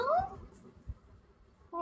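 A person's voice imitates a cat's meow, giving a short rising and falling meow at the start and starting another just as the clip ends, with quiet room noise in between.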